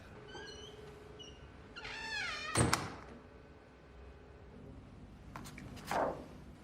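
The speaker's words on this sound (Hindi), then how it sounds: "दरवाजा बंद कर दो।" A door shutting with a solid thunk in a hospital room, preceded by faint chirping tones and a rising squeak, with a second softer knock a few seconds later against quiet background hum.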